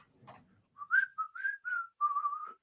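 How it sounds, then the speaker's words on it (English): A lone person whistles a short melodic phrase of several sustained and gliding notes, clear and fairly close against silence, preceded by a faint rustle. "And just walk out whistling."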